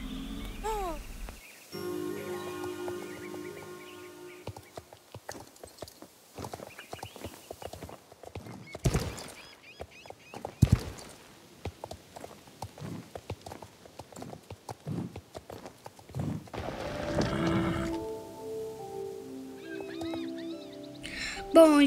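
Rhythmic horse hooves clip-clop steadily through a Star Stable Online race soundscape with music and effects, a horse whinny, and bursts of louder impacts.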